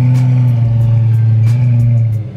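A Lamborghini Gallardo V10 with an aftermarket exhaust idles with a deep, steady exhaust rumble, punctuated by several short throttle blips in a regular rhythm, close by.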